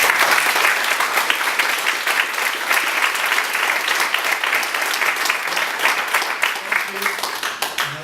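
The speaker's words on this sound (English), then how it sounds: "I just want to give the staff a round of applause" Steady applause from a crowd, dense and continuous throughout without pause, clapping holding at an even loud level.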